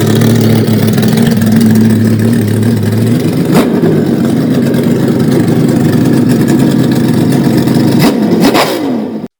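V8 muscle car engines rev hard and loud for about nine seconds, a deep steady rumble broken by two sharp throttle blips before cutting off abruptly.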